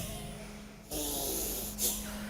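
Two sharp, forceful breaths from a rhythmic breathing exercise, a steady exhale followed by a brief forceful puff, close up in a quiet room.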